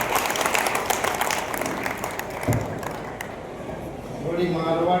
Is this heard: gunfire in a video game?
no